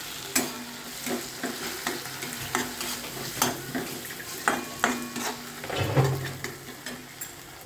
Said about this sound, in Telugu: దీన్ని బాగా ఫ్రై చేసుకోవాలి, కొంచెం పేస్ట్గా అయినంత వరకు